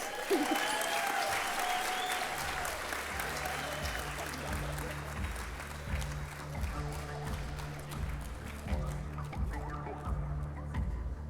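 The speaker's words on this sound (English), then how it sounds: "Another big round of applause for Paige, please." Crowd applause for Paige rolls steadily for several seconds over a low rhythmic hum, gradually thinning out toward the close.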